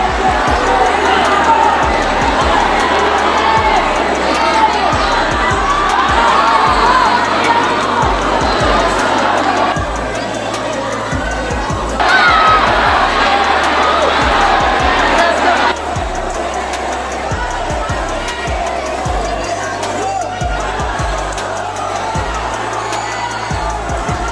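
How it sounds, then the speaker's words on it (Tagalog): Crowd cheering at a boxing fight featuring Pacquiao's son Eman, a loud dense roar of whoops and shouts filling the whole stretch and swelling in waves, with commentators talking over it. "Hype na hype yung crowd natin."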